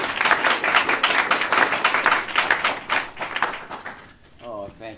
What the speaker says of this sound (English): Let's have a big round of applause for our teacher, Earl Palmer.